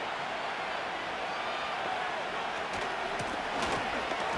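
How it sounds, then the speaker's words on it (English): A virtual stadium crowd in an EA Sports American football game roars in a steady, dense wash of cheering as play builds toward third down, with faint claps and shouts rising near the end. "This crowd into it now as we get to 3rd down."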